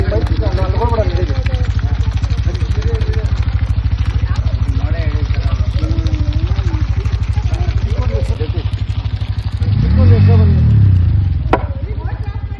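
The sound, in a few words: motorcycle engine running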